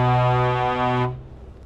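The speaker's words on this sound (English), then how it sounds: "How do you blow the air horns on this thing?" A single loud blast of a Scania truck's air horn, a rich steady tone held for about a second before cutting off.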